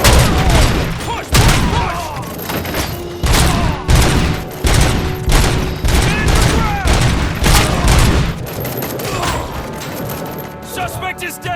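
Heavy gunfire from the video game RoboCop: Rogue City, loud dense volleys and booming shots in repeated bursts, with voices shouting under the shooting.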